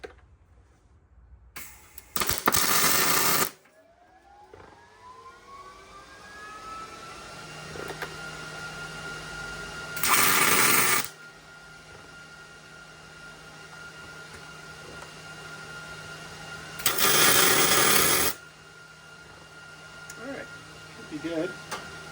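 Tack welds join an old metal bed frame in three short, loud crackling bursts, each a couple of seconds long, separated by quieter stretches with talking between them.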